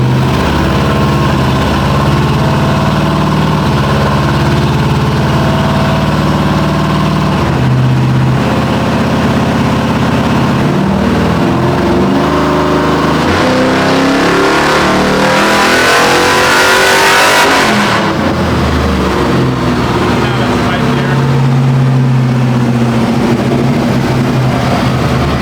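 An LS-swapped Chevy OBS truck engine roars on a dyno, revving loud and close as it sweeps up through the range, peaks, then drops back toward idle.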